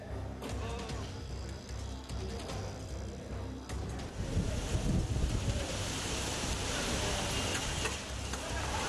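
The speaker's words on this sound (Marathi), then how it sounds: "सोसाट्याचा वारा पाहायला मिळतोय।" Strong wind roars steadily into the microphone during a dust storm, surging louder in gusts partway through, with a broad rushing noise throughout.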